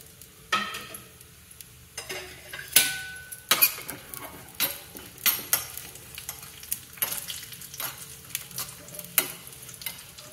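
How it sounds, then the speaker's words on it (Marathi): Cashews and almonds frying in ghee in a pan, a soft sizzle broken by a series of sharp scraping and tapping strokes as a spoon stirs the nuts, each stroke close and distinct. "काजू आणि बदाम आपण गार्निशिंगसाठी हे तळून घेणार आहे. पॅनमध्ये तूप घातले, तुपात तळून घ्यायचं."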